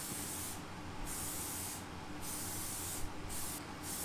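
A chilled spray can lays primer onto a Honda CRM250AR motorcycle frame in steady hissing bursts, each lasting about a second with brief pauses between, close and continuous.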